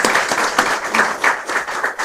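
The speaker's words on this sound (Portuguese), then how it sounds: "Uma salva de palmas, por favor." Applause at a talk-show style event: a room of people clapping steadily, dense and continuous with small swells, fairly close, no talking over it.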